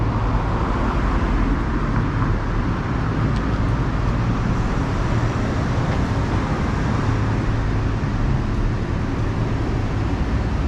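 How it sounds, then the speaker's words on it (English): Cars rolling along a San Francisco street, a continuous loud wash of tyre and engine noise from passing traffic with no clear gaps. "Oh no, the cars are moving now."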